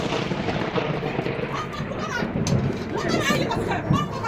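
A loud thunderclap from a nearby lightning strike during a hailstorm, a sharp crack followed by dense rumbling that fills the clip over heavy rain.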